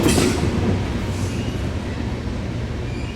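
Steady rumble and rolling clatter of a freight train passing, moderately loud and continuous with no voices.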